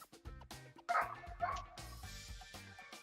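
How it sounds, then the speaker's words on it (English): A dog barks and yips several times in the background during a casual session, the sharp barks rising around the middle of the clip over low talk, close-ish and moderately loud. "dog joining us in the background"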